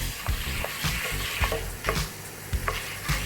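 Coriander seeds fry in oil over a slow flame with a steady sizzle, while a spoon repeatedly stirs and scrapes through them, making soft periodic clinks. No voices are heard.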